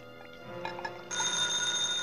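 A telephone rings in an empty office building at night in a 1949 radio mystery drama; a soft rattle comes first, then a steady, fairly quiet ring starts halfway through.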